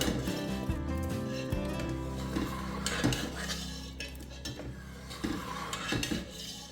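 A spoon stirs and scrapes through a pot of red kidney bean and lentil dhal as cream is folded in, producing close, repeated metallic clinks and soft scraping strokes in an irregular rhythm.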